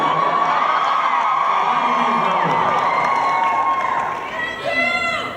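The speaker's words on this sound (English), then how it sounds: "I love this freaking crowd, man." A big Comic Con panel crowd cheers, whoops and shouts loudly and without a break. The roar eases near the end as a few high voices stand out.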